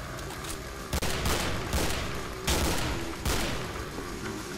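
Alternate fire from a gun in the video game Killing Floor: a dense, continuous volley of loud rapid shots with several heavier bursts, filling the whole stretch with no talking.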